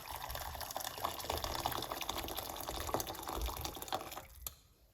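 Hot water poured into a cup for pineapple tea, a continuous close trickling and splashing stream lasting several seconds before stopping abruptly, with a quiet tail afterward.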